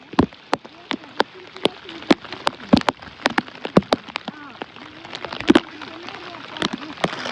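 Heavy monsoon rain pours onto a flooded rice paddy in a village during transplanting, a dense close patter broken by sharp loud drops and splashes, with voices talking now and then.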